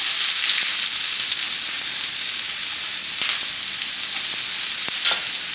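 Small onion frying in hot oil in a pan while preparing moru kachiyath, a Kerala buttermilk curry; a steady, close, continuous sizzle with faint crackles and stirring, no talk.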